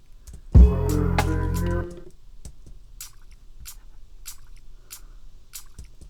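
Layered drum sample of crisp hi-hats blended with a water splashing sample, a single sustained wet tonal hit followed by a steady series of short, bright ticks repeating evenly.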